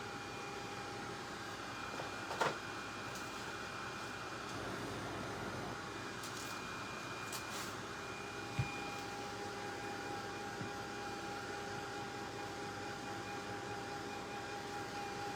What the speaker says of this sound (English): we are going to sand this up using my cute little sander tool